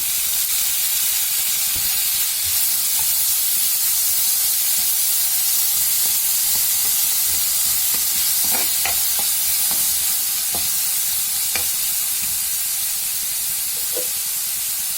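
Chopped tomato sizzles and fries in a hot pan for chicken gizzard fry, a steady loud hiss with steam running throughout and occasional clinks and scrapes of a spoon stirring.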